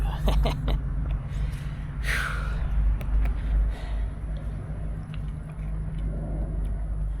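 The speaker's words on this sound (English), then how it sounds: "So you hear the car traffic, which is a bummer." Steady low rumble of distant road traffic from a road across a field runs throughout, with a few close breathy sounds near the start.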